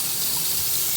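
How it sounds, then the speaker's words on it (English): Water runs steadily from a tap during a property inspection, a continuous close hiss and splash with no breaks and no talking. "You want to make sure the water works."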